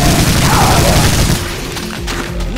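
Dense, loud bursts of gunfire and explosive booms in the video game Brutal Doom, a chaotic rapid barrage that thins out partway into scattered shots.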